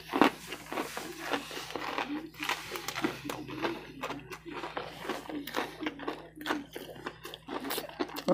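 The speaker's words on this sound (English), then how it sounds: "It's crunchy as fuck." Crunchy Church's campfire smokehouse fried chicken chewed close to the mic, with repeated soft crunches and mouth sounds in an uneven rhythm, and some quiet talk now and then.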